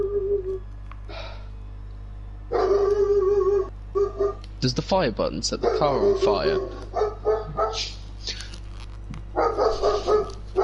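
A dog barks and yips excitedly indoors in a room during a racing game session, several bursts mixed in with people talking over a steady hum.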